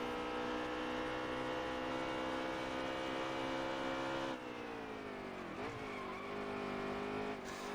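Race cars in NASCAR Heat 3 at Watkins Glen roar steadily as a pack of computer-driven stock cars surges ahead, engine tones holding high and then dipping and shifting as they brake and turn, loud and continuous with no talking.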